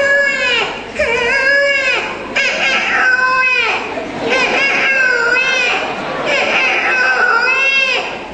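A voice imitates a newborn baby crying, with repeated wailing cries in several loud, drawn-out bursts filling the clip, performed at a lively Javanese Islamic sermon gathering in Kertosari, Temanggung.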